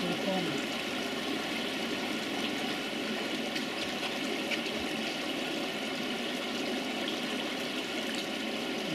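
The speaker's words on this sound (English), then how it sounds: "As soon as I push the button to start the pump up, it will go down the centre then and back into the pond." A koi pond filter pump runs while water flows back into the garden pond, a faint, constant rushing wash with a low steady hum beneath it.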